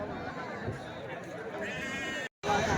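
Sheep and rams bleat at a busy weekly livestock market in Kadiri, amid voices and chatter, with wavering cries rising above the crowd noise.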